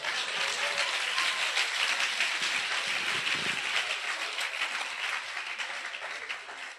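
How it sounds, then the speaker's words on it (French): A church congregation applauding together, dense sustained clapping filling the space at steady loudness for several seconds before tapering off, with no talk over it. "Acclamez pour Jésus."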